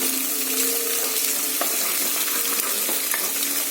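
Egg and drumstick leaves frying in a pan while being stirred, a steady loud sizzle with occasional scrapes of the spatula throughout, no talk.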